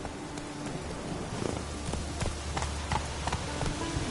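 The horse Roach galloping in The Witcher 3, with a steady rhythm of hoofbeats thudding under a wash of rain-like ambient noise, moderately close and fairly quiet.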